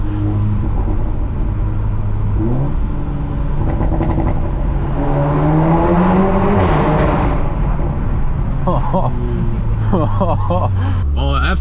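A VW Golf 7.5 R with an Akrapovic exhaust revs and accelerates through a tunnel, its loud, echoing engine rising and falling in pitch through shifts, with crackles near the end.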